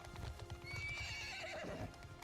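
Cavalry horses charging downhill in a Bannerlord battle, with dense rapid hoofbeats, a loud whinny riding over the galloping, and a busy, constant battle din throughout.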